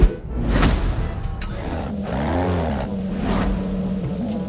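A video game race car engine, said to sound like a Formula 1 V10, turns over and rises into a steady droning rev with pitch sweeps, fairly loud and close, no talking.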